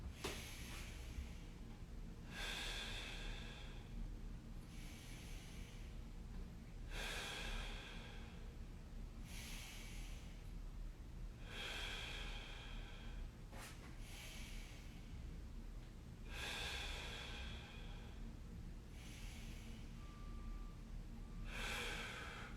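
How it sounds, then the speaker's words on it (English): Slow, deep breaths in and out during a stretch in an upper and lower back mobility routine, heard as about five soft, airy breath cycles that rise and fall evenly against a quiet background. "Breathe out."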